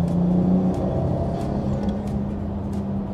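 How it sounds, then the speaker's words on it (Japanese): A car driven in third gear accelerating, heard from inside as a steady loud low engine drone and road rumble that holds throughout, with a faint hum and no voices. "3速にしてみて、3速ブンって加速してみて"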